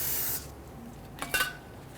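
Spray cleaner misted onto a Hummer H3 transfer case housing: a short, bright hiss at the start, then quiet, followed by a couple of faint close taps and rubbing.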